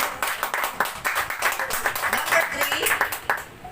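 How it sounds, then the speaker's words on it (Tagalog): A church congregation claps loudly in praise, a dense run of close, rapid handclaps mixed with voices throughout, fading out at the end. "Isang malakas nga po palakpak sa Panginoon"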